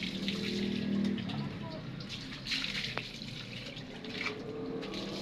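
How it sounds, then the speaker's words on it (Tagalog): Running water splashing steadily while a pet dog is bathed, a continuous tap-like flow with occasional thumps, as people talk over it. "Naliligo si Tiny."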